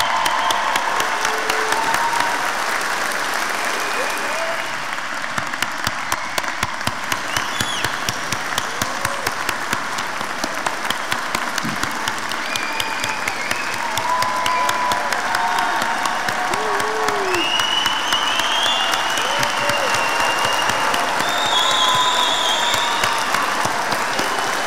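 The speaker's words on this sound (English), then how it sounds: "So I ask everyone to give these graduates a very special round of applause." Sustained applause for graduates at a spring commencement ceremony, dense clapping from a large crowd that holds steady and loud for the whole stretch, with scattered cheers rising through it.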